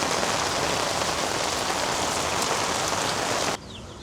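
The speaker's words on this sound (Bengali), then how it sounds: "কি বৃষ্টি আসছে দেখছেন" Heavy rain pours down in a dense, steady hiss, loud and close throughout, then drops abruptly to a softer patter near the end. No voices.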